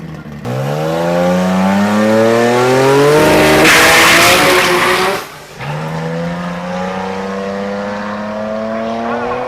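Car on a grip driving run, engine revving hard and climbing through the gears with loud squealing tires, a brief drop at a shift before the pull resumes, near and dominant with no talk.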